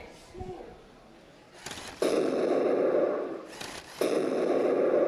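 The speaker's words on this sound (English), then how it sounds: "now a cannon fire." Two loud electronic cannon blasts from a LEGO tank model, two seconds apart, each a sudden boom followed by a noisy rumbling tail, close and toy-like.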